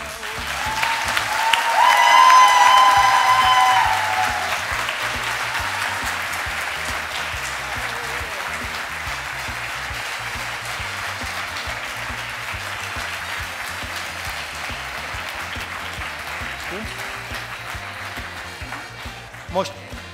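A crowd at a design and decoration anniversary event bursts into loud, dense applause that peaks early and then holds at a steady level for about twenty seconds, with voices faint underneath.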